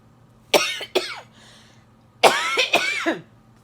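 Two separate bursts of raspy coughing, each a quick pair of harsh coughs followed by a rougher cluster, close and fairly loud, with a faint clearing of the throat between.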